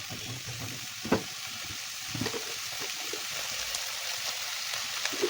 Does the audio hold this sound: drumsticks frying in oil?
yes